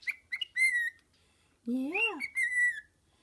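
A pet bird whistles and chirps up close in several bright, rising and falling phrases with short pauses between them, and a person briefly speaks.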